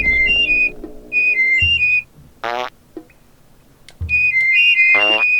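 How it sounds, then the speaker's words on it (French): Whistled code phrases in Oddworld: Abe's Oddysee, short melodic two-tone whistle patterns repeated in sequence, joined by low buzzy fart-like bursts, loud and up front with no talk. "donc il faut siffler"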